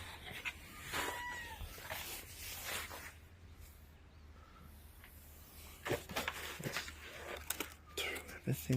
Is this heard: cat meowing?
yes